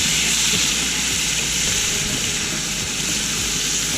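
Oil sizzles and hisses steadily from deep frying outdoors beside a canal, a loud, continuous crackling wash close by with no voices.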